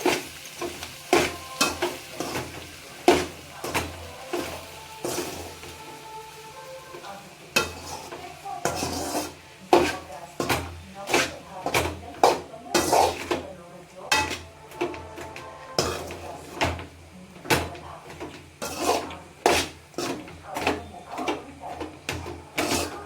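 Paneer rice stirred and mixed in a pan over a low flame, with repeated scraping and clinking strokes of a spoon against the pan and a soft sizzle underneath, steady and close.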